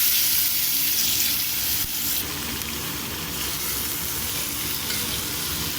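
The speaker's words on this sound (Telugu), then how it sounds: "కొద్దిగా గోల్డ్ కలర్ వచ్చేదాకా ఫ్రై చేసుకున్నామండి" Chopped onions fry in a pan until golden for mutton keema, producing a dense, loud, unbroken sizzle heard up close.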